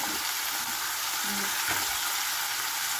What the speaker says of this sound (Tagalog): At ilagay ko na po yung ating sayote.